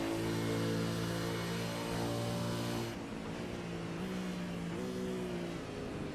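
A V8 race car in a sim racing game brakes hard into Canada corner at Road America, its steady engine drone cutting off and dropping into a rougher, lower downshifting growl.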